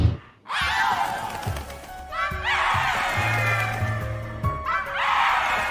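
Distorted screaming pours from a telephone receiver in the horror game Spirit Hunter NG, loud, harsh and sustained in several long shrieking waves over low droning noise.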